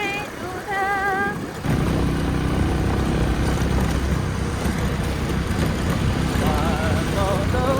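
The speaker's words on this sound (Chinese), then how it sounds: "骑上我心爱的小摩托" A small motorcycle is ridden along a rural road, its engine and wind rush loud and steady close to the mic, with a tune sung over the start.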